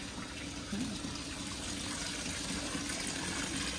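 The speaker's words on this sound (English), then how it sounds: "we are taking water from that pond and putting it into this" Water taken from a koi pond pouring into a big tub, a steady close gushing splash that strengthens slightly after the first moment and runs continuously, no talk.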